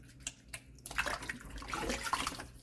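Raw chicken is rinsed in a bowl of water, with soft, close sloshing and splashing that starts with a few light dabs and grows into steadier swishing.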